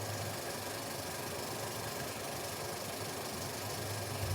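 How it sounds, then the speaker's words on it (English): A horizontal milling machine runs with a steady, even mechanical hum and churning rattle, constant in level throughout with no breaks. "Second, horizontal milling."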